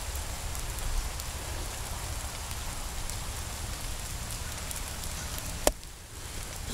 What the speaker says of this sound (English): Still raining pretty good guys